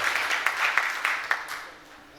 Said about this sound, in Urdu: ان سب کا استقبال آپ سب نے بھرپور تالیوں میں کرنا ہے